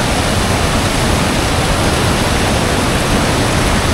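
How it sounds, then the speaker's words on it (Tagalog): Water pours through an opened river channel gate at Dipalo River Park, a loud, steady broadband rush that holds constant from start to finish with no voices. "bubuksan ang isang lagusan ng tubig para ito'y malinisan at mapaliguhan ng mga turista"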